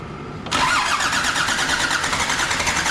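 A Land Rover engine cranks and catches after a brief near-silent pause, then runs loud and steady with throttle held up, a dense continuous roar close by.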